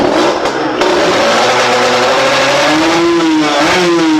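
A motorcycle fitted with a Serpico side exhaust revs steadily, its engine note rising in pitch toward the end, loud and close with no talk over it.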